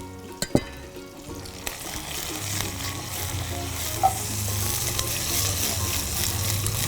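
Catfish sizzles steadily in hot oil for sambal pecak lele, with a continuous crackling fry, a few sharp pops and clatters near the start, and a low hum underneath.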